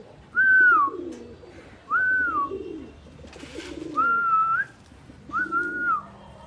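Pigeon cooing close by, four soft rolling coos spaced at a steady rhythm with short pauses between, no voices.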